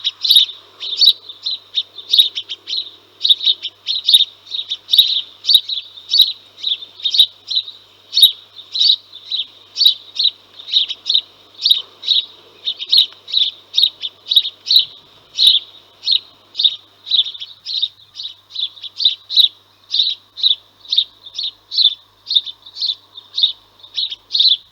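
House sparrows chirp in a rapid, regular series of bright calls from a flock feeding together, each call clear and fairly close against a quiet background, with no voices.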